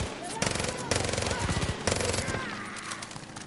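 Rapid gunfire in a video game crackles in several quick bursts, loud and close, with brief pauses between volleys and a faint voice underneath.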